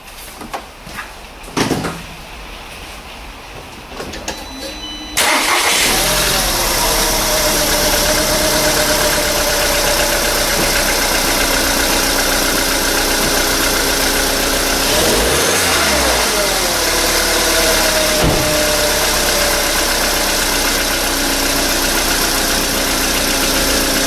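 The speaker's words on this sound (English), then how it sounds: "I'm just going to start the car, make sure it's running, idling okay" A 2004 VW Touran engine cranks and starts after a few quiet handling noises, then settles into a loud, steady idle with a brief rev partway through, running close by without any talk.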